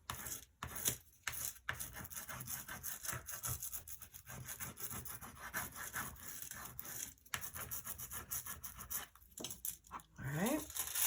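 A foil adhesive transfer is rubbed onto a craft project by hand, making close, quiet, uneven rubbing and scratching strokes with brief pauses between them.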